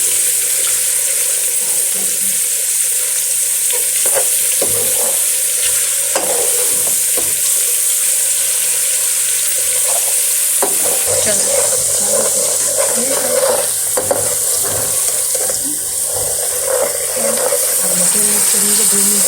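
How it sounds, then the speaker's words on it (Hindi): Carrots fry in a pan for Chinese fried rice, a continuous close sizzle with scraping spatula strokes and irregular stirring clatter throughout. "गाजर डाल देंगे, गाजर को 2 मिनट इसमें फ्राई करेंगे ताकि ये ज़रा नरम हो जाए"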